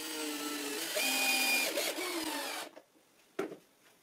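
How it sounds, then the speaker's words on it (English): A power drill drives a screw to fix the fence to a homemade router table top, whirring steadily for a few seconds before stopping, followed by a brief knock and quiet handling of wood. "I just have to screw this end of the fence to the router table top."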